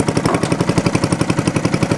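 A 12.5 horsepower Briggs & Stratton engine on an NPD-built Agway riding mower runs close and loud, with a rapid, regular chugging pulse and a steady throb.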